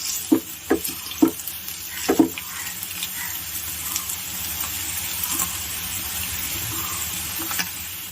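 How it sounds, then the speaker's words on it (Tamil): Crushed garlic frying in oil for homemade garlic podi: a few close knocks and scrapes at the start, then a soft, steady sizzle that carries on alone without speech. "ஸோ இந்த கலர் வர வரைக்கும் நம்ம ஃப்ரை பண்ணணும்"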